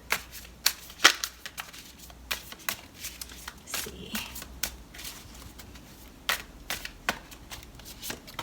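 Tarot cards are shuffled and drawn close by, giving quiet crisp riffles and sharp flicks and snaps at an irregular rhythm.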